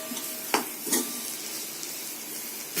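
Potatoes sautéing in oil on a low flame for a spicy potato kara curry: a soft steady sizzle with a couple of sharp stirring scrapes early on, close and fairly quiet.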